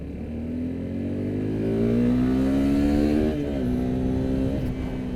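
A 2024 Suzuki Gixxer motorcycle engine revs up hard while accelerating to overtake, the rising note climbing loud and close, dipping briefly at a gear change before pulling on again.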